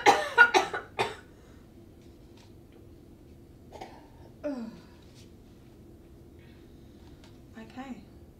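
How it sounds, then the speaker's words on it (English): A patient gives several strong coughs in a quick cluster during chest physiotherapy, followed by quieter breaths and small sounds in an otherwise quiet room. "Big cough."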